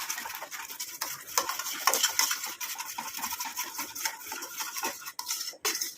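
Homemade face cream being stirred in a pan on the stove, a spoon scraping and clinking against the metal in continuous close rhythmic strokes.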